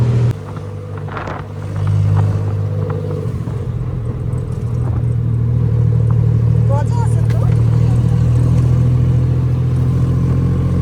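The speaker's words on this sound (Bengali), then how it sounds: "আমরা এখন টুকটুকে করে যাচ্ছি খাওসান রোডে" Tuk-tuk in Bangkok traffic on the way to Khaosan Road, its small engine rumbling and revving steadily throughout, loud and close, with street noise around and a voice speaking over it.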